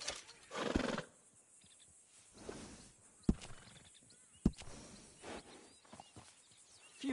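A horse in Red Dead Redemption 2 neighs and whinnies with sharp hoof clops scattered between, against a quiet background with faint bird calls.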